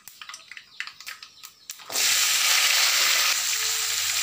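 Garlic and onions hitting hot oil for a Tamil curry: a few light clinks, then a sudden loud, steady sizzle that continues to the end.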